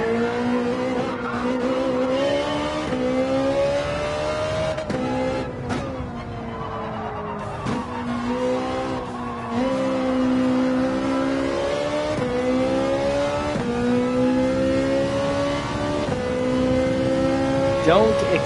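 Ferrari racing car in Gran Turismo 7 driving hard, its engine droning and shifting pitch through gear changes while tires squeal and skid through a turn; continuous and fairly loud, with a voice talking over it at times.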